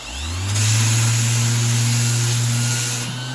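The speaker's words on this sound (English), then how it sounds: "So I'll plug my sander in. And I will sand it while it's wet." An electric sander starts up and runs steadily against wet crack filler on a wall, a loud continuous motor whine with a strong low hum that holds for about three seconds and then begins to wind down.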